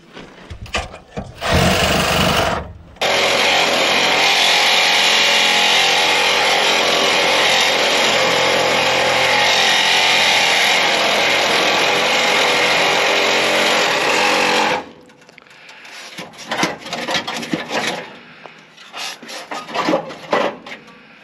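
A Sawzall reciprocating saw cuts into a burned car. Loud, close, continuous buzzing rasp runs for about twelve seconds, framed by bursts of clattering metal handling before and after.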